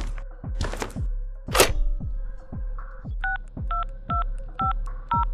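Telephone keypad dialing in the horror game Room 202, with a run of regular dial tones each paired with a soft thunk of the button press, preceded by clicks and rustling handling of the phone, close and clear.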